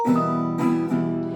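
Relaxed acoustic guitar strumming, three soft chord strokes in an easy rhythm, ringing close and clear with no voices.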